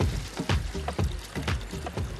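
Water cascades over Portland stone into a layered copper valley in a show garden, a steady close pouring and trickling wash with rhythmic surges of splashing throughout.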